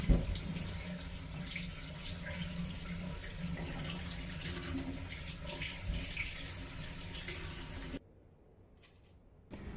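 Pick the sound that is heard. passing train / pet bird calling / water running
water running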